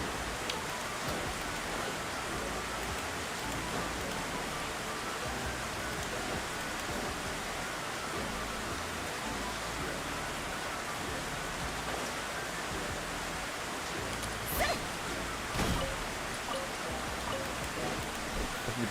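Steady rain in a Honkai: Star Rail or Genshin Impact game scene, an even hiss of falling water lasting throughout, with a couple of brief louder taps near the end and no talk.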